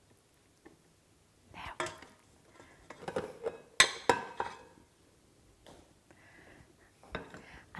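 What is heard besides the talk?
scraping pizza dough off a surface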